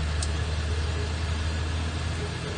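A Ferrari F8 twin-turbo on a track driving course gives a steady, loud engine drone from inside the car as it moves off in the lower gears, with no voices.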